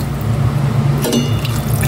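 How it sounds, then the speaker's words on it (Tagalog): Coconut milk pours into a cooking pot for a ginataang yellowfin fish dish, a loud, close liquid stream running steadily with a brief splashy change midway. "ilagay ko na rin itong coconut milk. Ito na yung unang gata talaga."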